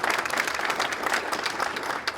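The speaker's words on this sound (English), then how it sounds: "So give them a round of applause." Audience applause fills the room at a panel event, a dense wash of many hands clapping steadily for about two seconds before tapering slightly at the end.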